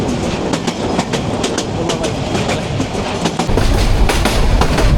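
A passenger train on the Dhaka to Kishoreganj line rolls along the rails through a bend, loud and close, with a rapid steady clickety-clack of wheels over rail joints and a deeper rumble growing toward the end.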